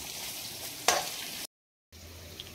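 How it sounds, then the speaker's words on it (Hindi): Onions fry in oil for a kadhi base: a close, steady sizzle with a stirring scrape that breaks off briefly before the frying hiss resumes. "अब इसको हम थोड़ा सा अनियन को ट्रांसलूसेंट होने तक कुक करेंगे।"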